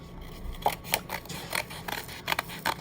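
Scissors snip through paper in a quick run of short, close, crisp cuts while teeth shapes are cut out of folded paper, heard alone without talk.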